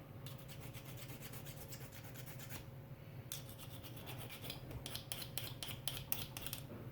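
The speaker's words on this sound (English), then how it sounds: "So I like to scuff these up and give the glue something to stick to." Resin model kit parts being scuffed with an abrasive before gluing: close, quiet rasping strokes in quick repeated bursts, broken by a short pause, with no voices.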